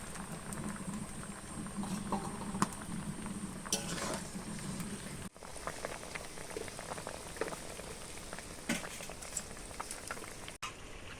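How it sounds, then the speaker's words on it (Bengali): Fried puti fish goes into a boiling curry, which bubbles and pops steadily in a soft, even patter, with a few light stirring knocks and two brief sharp clicks; no voices. "তরকারি ফুটে গেছে তো মাছটাও দিয়ে দিচ্ছি"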